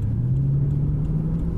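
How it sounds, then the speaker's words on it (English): Lexus IS-F compact sports saloon with a V8 engine, heard as a steady, muffled low rumble with a slowly rising drone, close but dull and muted, no voices over it. "But it's got a V8 engine,"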